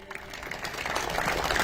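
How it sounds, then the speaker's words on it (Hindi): A crowd at a civic felicitation gathering for a BJP leader breaks into applause for Narendra Modi, the clapping swelling from scattered claps into a loud, dense wash. "एक बार जोर से ताली बजाइए"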